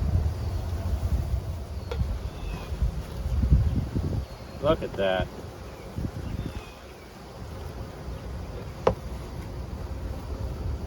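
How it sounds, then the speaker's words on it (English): Honey bees drone in a packed, crowded hive, a continuous low buzzing close to the listener, with someone speaking briefly over it. "There's a lot of bees in here."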